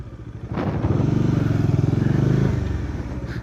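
Motorcycle during a low-speed riding exercise, the engine rising into a pulsing rev for about two seconds before dropping back toward idle, close and moderately loud.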